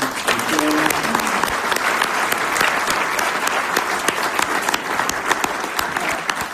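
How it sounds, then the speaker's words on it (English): An evening audience at a board listening session gives a round of applause, steady dense clapping throughout, close and loud, with no talk over it. "I'd like y'all to give a round of applause to Chris and Sophie and Shannon."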